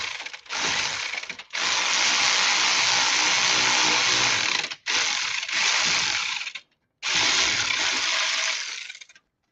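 Ratchet on a long extension tightening a worm clamp bolt on a Harley-Davidson, several loud bursts of rapid clicking pawl action separated by short pauses, close and alone.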